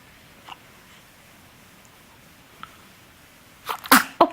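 Baby sneezing indoors, faint soft breaths and small sounds, then a quick pair of close, sharp little sneezes at the end with no talking.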